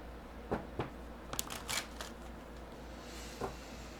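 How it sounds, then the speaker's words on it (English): Tarot cards are shuffled and riffled by hand in a quiet room, giving a few soft, close, scattered flicks and snaps with no talking. "I did pre-shuffle these. I just want to wake it up a little bit."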